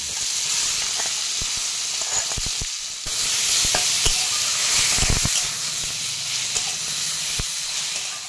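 Boiled banana flower tossed into hot oil with panch phoron and dried red chillies: loud, steady sizzling with sharp spatula clicks and stirring scrapes throughout, no talking.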